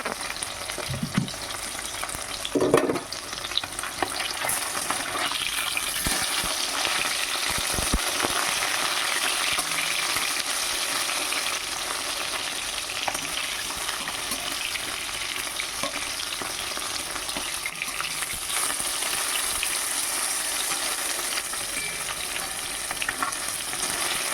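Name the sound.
fish frying in oil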